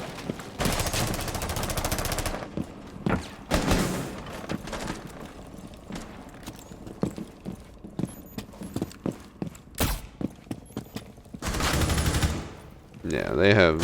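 Gunfire from Zofia in the Rainbow Six Siege video game, loud bursts of automatic fire separated by rapid single shots and footstep-like thuds, with a voice talking over parts of it.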